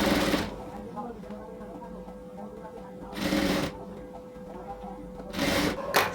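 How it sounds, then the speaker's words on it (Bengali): A sewing machine top-stitching around a garment neckline runs in three short bursts of rapid mechanical whirring, with quieter handling of cloth in the gaps between them. "সো পুরো গলার মধ্যে আমি একটা চাপ সেলাই দিয়ে দিচ্ছি আগে।"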